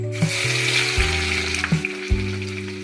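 Ginger-garlic paste is dropped into hot oil where mustard seeds have already popped, for a pappadam curry, giving a close, steady sizzle and crackle with a low hum running underneath.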